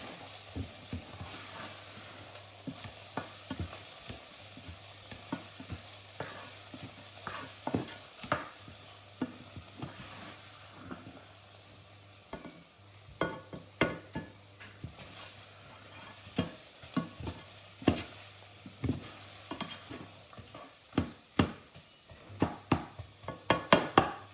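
Garlic, mushrooms, tomato puree and onions get stirred in a pan. Repeated spoon scrapes and knocks against the pan come over a soft sizzle, growing louder and more frequent toward the end, with a low hum and no talking.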